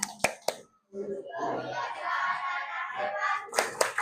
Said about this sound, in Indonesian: Coba tepuk anak hebat.